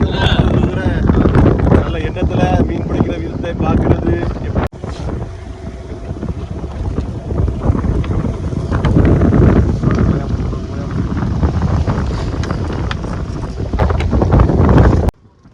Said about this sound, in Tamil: காற்று ரொம்ப அதிகமாக இருக்கிறனால கடலோர சீற்றம் வந்து ரொம்ப அதிகமாக இருக்குது